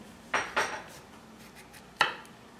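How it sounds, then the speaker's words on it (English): A knife slices through a cucumber on a cutting board, giving two quick close chopping knocks and then a third sharp cut a moment later, with no talking. "Now we cut cucumber in half,"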